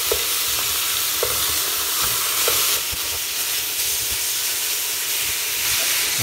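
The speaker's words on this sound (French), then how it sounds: "Bien les faire dorer." Beef pieces browning in a hot pan for a daube, a steady loud sizzle and hiss with occasional stirring scrapes, close and continuous with no talking.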